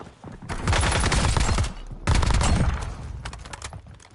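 Two loud, close bursts of automatic gunfire in the shooter Warzone, each lasting over a second, with scattered lighter shots trailing after.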